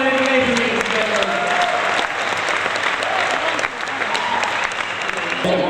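A festival crowd at an Irish coffee event applauds loudly, dense continuous clapping with scattered louder claps and faint voices mixed in, holding steady throughout.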